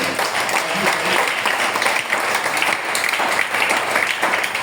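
A church congregation claps continuously and loudly, a dense steady applause with some voices mixed in, lasting the whole few seconds.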